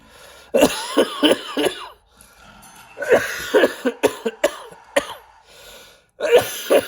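Repeated hacking coughs in three bursts, each a rapid series of harsh, close coughs separated by brief pauses.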